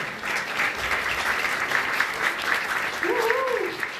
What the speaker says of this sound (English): let's give them a round of applause for serving my country